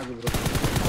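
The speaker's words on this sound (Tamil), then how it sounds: "Bro shot gun." Gunfire in the mobile battle game BGMI, heard as a rapid burst of repeated loud shots with a steady rhythm after a short quieter lead-in, close and dominant.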